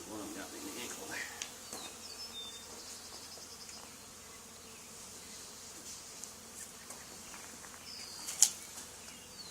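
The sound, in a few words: honey bee swarm buzzing at old barn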